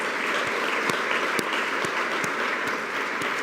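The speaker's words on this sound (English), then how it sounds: "So please join me in a round of applause." Audience round of applause at a women's awards ceremony, a steady even wash of clapping from a crowd with a few sharper claps standing out, moderately faint and continuous throughout.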